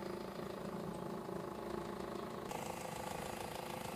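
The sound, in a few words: noisy car engine running, missing clamp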